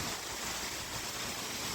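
Waterfall in Norway pouring down from above, a steady dense rush of broadband water noise, close and continuous with no talk over it.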